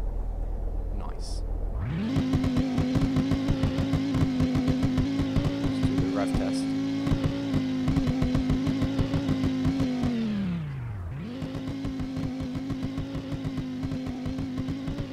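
A 2008 Bullhorn Python in the Roblox game Greenville revs hard, a loud sustained engine drone that climbs, holds for several seconds, drops, then rises again, with a faint voice underneath.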